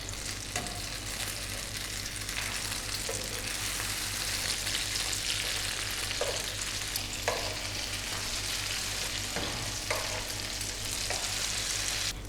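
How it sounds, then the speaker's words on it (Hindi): Egg-coated eggplant slices fry over a very low flame in a pan, giving a steady, close sizzle throughout with a few soft clinks and bubbling pops scattered along the way. "बैंगन को हमने दूसरी साइड से भी 1 मिनट तक हल्की आंच पर पका लिया है।"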